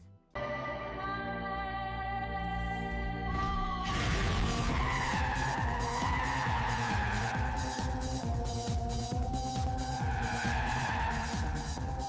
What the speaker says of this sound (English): as that car was drifting and as the scene changed, Google was able to recognize and add in the right sound effects for that scene